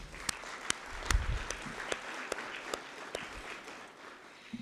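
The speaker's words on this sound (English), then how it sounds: "Let's applaud for that." An audience applauds at a celebration of the first African-American majority elected to a city council, held in a historic Jackson Ward venue, with soft, scattered clapping punctuated by a few sharp, distinct claps and a brief low thump.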